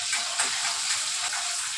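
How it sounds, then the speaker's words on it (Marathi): Green chilies dropped into hot oil for sabudana khichdi give a steady, close, crackling sizzle that continues evenly with no talking. "आता हा तेल गरम झालेलं आहे, आपण मिरची घालूया आधी चवीप्रमाणे"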